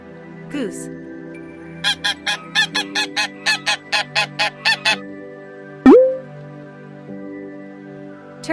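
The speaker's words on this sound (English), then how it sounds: "Goose." A goose honks in a quick run of about a dozen sharp, evenly spaced calls, close and clear over soft background music, with a brief spoken word just after and another at the start.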